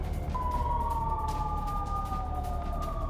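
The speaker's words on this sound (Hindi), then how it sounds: "आपसे बात करते समय हमने सायरन की आवाज सुनी थी" A wailing air raid siren in Israel rises then slowly falls in pitch, heard at a distance over a steady rumbling background.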